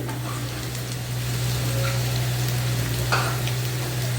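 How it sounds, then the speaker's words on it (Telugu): Small chopped pieces of bottle gourd sizzling in a hot pan, a steady, close frying hiss with a low constant hum beneath and a few faint crackles, no voices. "ఒక కప్పు ఆనపకాయ చిన్న ముక్కలు తరిగి దీంట్లో వేస్తానండి"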